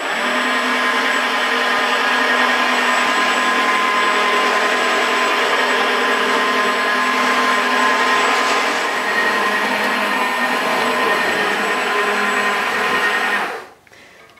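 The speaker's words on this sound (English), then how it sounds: "I'm going to apply the solution by squeezing the trigger and selecting the scrub mode" A Vax Floormate cordless hard floor washer runs in scrub mode on a tiled floor, its spinning brushes and motor making a loud, steady whirring drone that holds for about thirteen seconds before cutting off abruptly.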